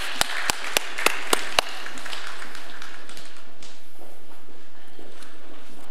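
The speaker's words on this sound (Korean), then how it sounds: "하나님 앞에 영광의 박수 올려드립니다." In a church, a congregation gives six sharp, evenly spaced claps in rhythm, followed by softer, scattered applause that trails off.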